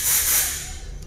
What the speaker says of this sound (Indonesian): Kita coba semprot dulu Pak.